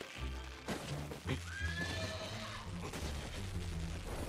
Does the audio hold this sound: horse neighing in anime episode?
yes